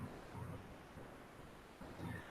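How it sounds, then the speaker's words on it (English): Distant thunder rumbling low and faint in two soft swells during a stormy night, with no voices over it. "Oh, we got thunder"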